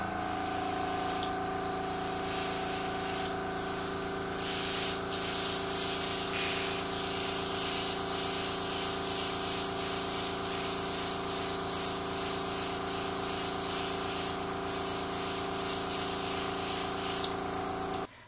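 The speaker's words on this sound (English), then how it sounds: "You want to start by spraying out your color onto a towel or another surface" A steady hiss of yellow food colouring being sprayed onto a buttercream cake runs continuously for about eighteen seconds over a constant low mechanical hum, with brief pauses and bursts in the hiss.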